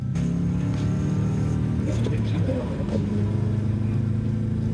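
A tuned Ford Crown Victoria with a 4-speed automatic accelerates hard, its engine drone loud and steady from inside the cabin, with voices talking over it.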